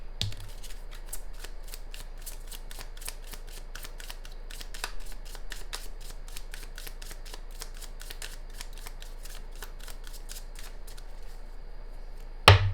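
Tarot cards shuffled for a Taurus reading, a long run of rapid, evenly spaced riffling flicks close by, steady throughout and ending in a soft thump, with no talk.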